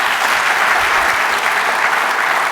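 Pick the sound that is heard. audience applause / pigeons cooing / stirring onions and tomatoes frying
audience applause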